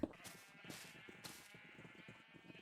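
Sheep bleating in the Minecraft video game, several short blocky bleats repeating over a steady background of game ambience and music, fairly quiet with no talking.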